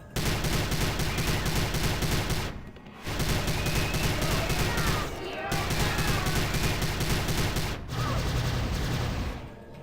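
Rapid gunfire from weapons shooting back at attacking ghost kids in the 2006 video game Prey, sustained dense bursts with short pauses between volleys, loud and continuous alongside game sounds.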